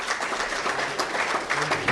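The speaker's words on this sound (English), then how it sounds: "please give a round of applause to Venus TV and Mr." Applause from an audience at a cricket event gathering, a short burst of steady clapping heard at moderate distance with crowd murmur blended in.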